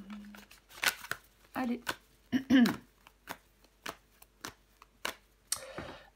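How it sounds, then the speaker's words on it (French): Tarot cards handled and flipped over on a table during a French reading: short papery slaps and shuffling bursts at a steady pace, close by, with someone speaking between them. "Nous allons recouvrir des cartes."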